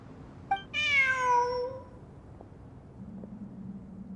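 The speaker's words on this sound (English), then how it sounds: "Look, a cat." A cat in the video game Genshin Impact gives one clear, drawn-out meow after a short click, moderately close and fairly soft, followed by a faint background hum.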